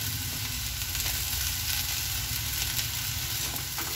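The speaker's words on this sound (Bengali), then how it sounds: "তো এই যে দেখো ফুলকপি আলু একদম ভাজা ভাজা হয়ে গেছে, ভালো করে ভাজা হয়ে গেছে।" Cauliflower and potato pieces fry in a pan with a steady, dense sizzle that holds at an even level from start to finish, close and continuous, with no voices over it.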